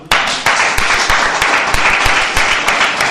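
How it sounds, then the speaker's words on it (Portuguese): A church congregation applauds after a call to praise God, a dense burst of many hands clapping that starts abruptly and continues with sharp scattered claps, close and loud. "Vamos aplaudir a Deus?"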